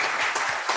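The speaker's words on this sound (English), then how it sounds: "Let's give them an applause" Audience at a city council meeting applauding school principals and administrators, a brief burst of many hands clapping at moderate distance.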